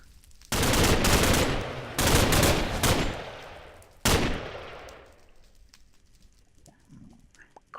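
A shotgun-like gun in Minecraft with Flan's Mod fires three loud, close bursts, each a rapid cluster of shots that rings out and fades before the next, then quiet background remains.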